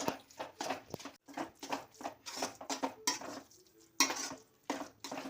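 Mashed potatoes being stirred in a pan for pav bhaji, a series of irregular scraping and squishing strokes of a utensil against metal, close and fairly clear.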